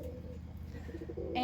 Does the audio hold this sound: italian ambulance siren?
no